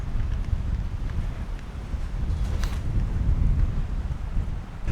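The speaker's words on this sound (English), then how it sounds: "Super windy today." Strong wind on a beach in Dong Hoi, Vietnam, buffeting the microphone with a heavy, rumbling roar that gusts continuously, loud and close.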